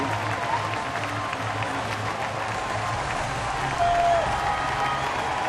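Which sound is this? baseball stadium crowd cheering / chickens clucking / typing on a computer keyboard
baseball stadium crowd cheering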